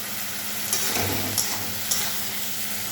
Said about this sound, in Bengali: ভালো করে ভেজে লোটে মাছটা ছেড়ে দেবো